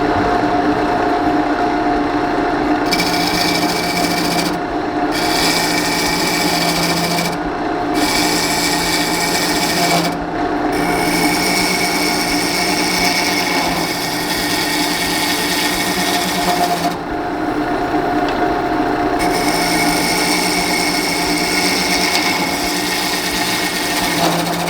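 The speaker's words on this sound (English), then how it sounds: "So now I'm just gonna keep up that carve pattern and make these walls thinner and thinner and make the bottom thinner and thinner." Power carving tool grinding and smoothing the walls of a segmented cherry wood bowl, a loud continuous abrasive whine with brief dips where the tool lifts off the wood, steady throughout with no talking.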